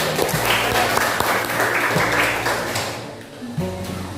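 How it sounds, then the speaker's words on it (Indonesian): Students in a classroom clap their hands for a lesson just finished, a brief, fairly loud round of clapping that thins out toward the end, with faint tones and scattered taps mixed in. "Tepuk tangan dulu."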